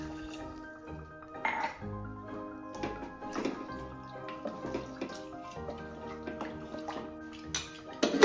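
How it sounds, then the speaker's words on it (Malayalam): Plain water is poured into a pressure cooker, a soft splashing trickle with occasional metallic clinks of the pot, fairly quiet and close with no talking. "ഞാനിപ്പോൾ കുക്കറിൽ വെക്കുന്നതുകൊണ്ട് ഞാൻ പച്ചവെള്ളം തന്നെയാണ് ഒഴിക്കുന്നത്."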